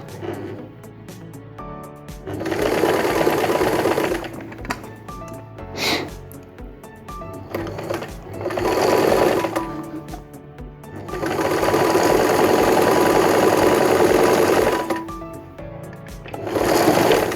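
A Brother R7 sewing machine stitching a line of fabric at full speed, its motor whirring in long loud bursts with brief pauses and quieter stretches between runs.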